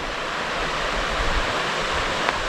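Mill Creek, which runs into Clear Creek on the historic Camden House property in Shasta, gives a steady, even rush of flowing water that holds constant throughout, with no voices.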